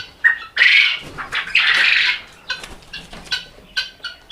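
Chickens squawk loudly and close up at a China-breed chicken farm in several harsh bursts, followed by shorter clucks and squawks.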